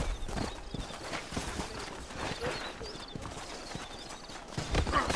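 Rapid clip-clop of horse hooves on hard ground in the video game Red Dead Redemption, steady and fairly close, with a short whinny-like sound and background ambience.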